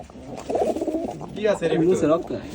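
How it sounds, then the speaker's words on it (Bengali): Pigeon cooing close by, a series of soft, throaty, rolling coos repeated over a couple of seconds. "এই কবুতরটা আমরা আজকে দেখাবো"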